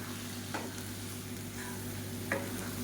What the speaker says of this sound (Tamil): இப்போ இது எல்லாத்தையுமே சேர்த்துடலாம் சேர்த்துட்டு நல்லா கரட்டி விட்டுக்கலாம்